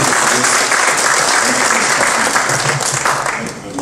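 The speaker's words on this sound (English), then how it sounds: "let's give a round of applause to Carlos again" An audience at a talk on drug violence in Latin America breaks into loud, sustained applause, a dense wash of many clapping hands that carries on throughout and eases slightly near the end.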